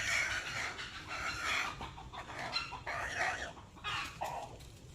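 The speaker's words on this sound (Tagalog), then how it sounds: "May manok, oh." Chickens cluck nearby in a repeated, uneven series of calls with a brief crow-like note, over a steady outdoor background with no talk.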